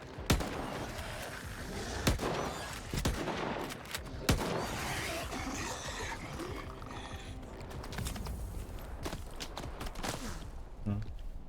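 Rapid bursts of gunfire crack repeatedly over a busy, noisy backdrop in the game S.T.A.L.K.E.R. 2 during a fight with snorks, sharp shots scattered throughout with brief pauses between volleys.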